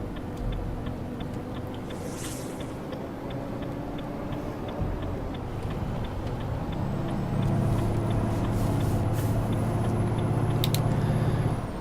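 A truck in Euro Truck Simulator 2 brakes, with a steady rhythmic ticking like an indicator over low engine rumble that swells later, plus a faint hiss of air brakes.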